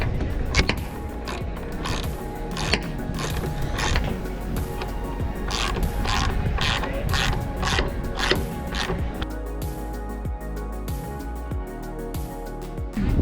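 On a 38ft sailboat under refit, a new radar bracket is mounted with a rapid run of sharp ratcheting clicks and metallic taps, steady and close, with no talking.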